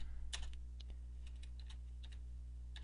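Typing a command at a computer's command prompt: quick, irregular keyboard clicks and taps, faint and close, with a low steady hum underneath and no talk.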